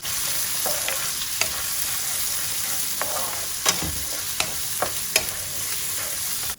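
Chopped onions frying in a pan until golden give a continuous close sizzle, with a few sharp scrapes and taps as a spoon stirs them.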